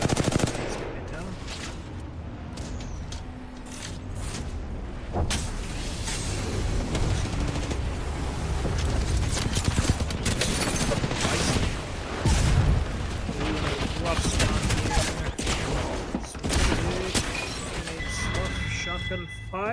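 Rapid gunfire and shotgun blasts from an Apex Legends squad fight, dense bursts of shots and impacts running throughout under continuous excited commentary.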